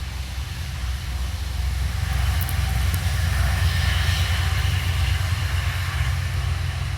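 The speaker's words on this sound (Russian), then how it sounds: "Я думаю, что трактор." A tractor passing on a road through the Chernobyl exclusion zone, a low, steady engine rumble that builds gradually and stays continuous throughout.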